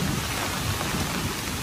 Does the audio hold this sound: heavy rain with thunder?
yes